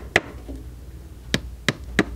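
A wooden hammer taps chair cane down into a seat groove: four light, crisp knocks, one alone and three in a quick, even run, close and isolated.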